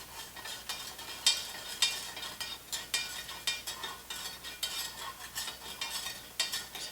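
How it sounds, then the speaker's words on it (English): An MRE drink mix from US Army MRE Menu 17 being stirred in a plastic beverage bag, heard as close, repeated crinkling and scraping strokes in an irregular rhythm, with no talking. "Just give this a good stir."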